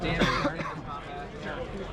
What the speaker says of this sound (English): Somebody coughed in the background.